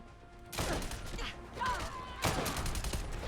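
Gunfire from the Fallout 4 video game with an M1903 infantry rifle mod, two sharp loud shots with ringing tails about a second and a half apart.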